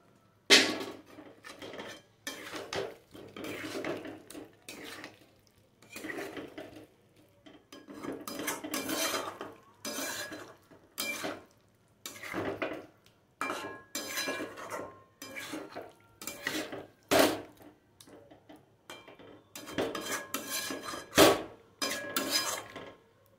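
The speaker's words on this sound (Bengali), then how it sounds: "এখন আমি ভেজে রাখা আলুগুলো এর মধ্যে দিয়ে নিচ্ছি।" Fried potatoes go into a pan of cooked-down spice masala for a vegetarian potato curry. A spatula stirs them with close, repeated bursts of metal scraping and clanking against the pan, separated by short pauses, and no one speaks.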